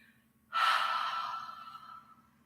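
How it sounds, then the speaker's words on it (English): A long, steady breath out during a standing stretch for older people, starting abruptly and trailing off gradually over about two seconds, close and alone with no talk. "you breathe in, all the way to the top, and then you breathe out"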